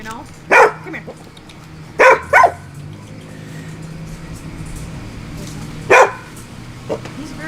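A strong pit bull barks in short, loud bursts, a single bark, then a quick double, then another a few seconds later, over low background noise.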